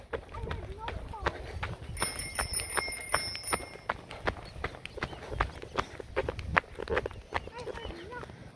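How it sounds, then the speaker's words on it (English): A child's bicycle bell rings in a quick, bright series of dings for about two seconds outdoors, over steady clattering wheel and footstep noise, with adult talk nearby. "Do your bell again."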